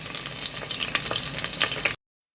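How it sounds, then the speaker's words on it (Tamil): Large sliced onions frying in hot oil with fennel seeds for Ramadan nombu kanji, a steady close sizzle with crackling pops and stirring for about two seconds, then silence. "நம்ம வெட்டி வச்சுருக்க பெரிய வெங்காயத்தை சேர்த்துக்கலாங்க."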